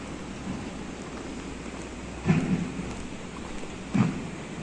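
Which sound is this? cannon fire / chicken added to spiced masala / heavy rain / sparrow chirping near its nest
heavy rain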